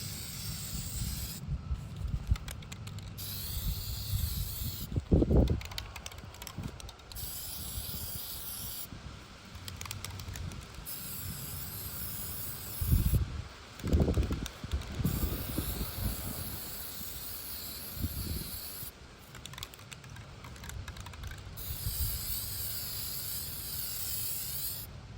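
Several bursts of copper spray paint from an aerosol can, steady hissing jets lasting a few seconds each, separated by pauses with soft handling noises and bumps.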